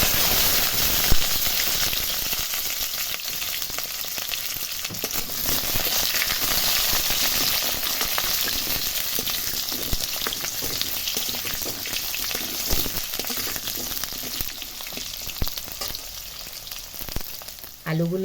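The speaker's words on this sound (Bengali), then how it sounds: "আলুগুলো লাল লাল করে ভাজা হয়ে গেছে" Potato pieces fry in hot oil with cinnamon, cardamom, cloves and bay leaf, giving a dense, continuous sizzle and crackle with occasional stirring scrapes, close and steady throughout.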